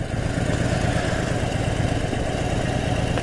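A motorcycle engine drones steadily while riding, a loud, close, unbroken rumble mixed with rushing wind noise and no speech.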